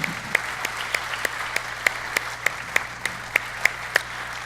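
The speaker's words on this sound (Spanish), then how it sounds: "Dale otro aplauso al Señor." Steady, evenly spaced handclaps at a religious conference, sharp and distinct over a low background hum, with no voices.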